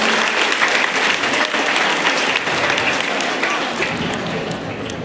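Sustained applause from a school audience at a government higher secondary school in Mahendravadi, welcoming a teacher, with dense steady clapping holding at full strength for the whole stretch and a few faint voices mixed in.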